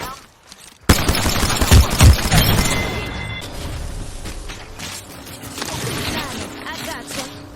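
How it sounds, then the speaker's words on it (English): Rapid automatic gunfire from the video game Apex Legends bursts in loudly after a quiet start, then continues as scattered shots, mechanical clicks and game effects over a couple of seconds. "I'm getting shot at."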